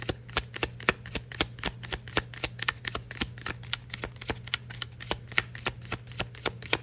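Tarot cards are shuffled up close in a quick, even run of crisp riffling flicks, with a low steady hum underneath and no talking.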